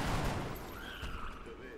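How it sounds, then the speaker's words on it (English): A soldier named Castillo fires a gunshot in XCOM: The Long War, a sharp burst at the start that fades into a ringing tail, with game effects trailing after. "Take the shot, Castillo."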